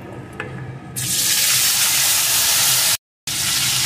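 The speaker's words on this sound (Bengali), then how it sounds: "আলুটাকে একটু ভেজে নেব" Potato pieces dropped into hot oil with fried spices, giving a loud, steady broadband sizzle that starts abruptly and continues, broken by a brief moment of silence.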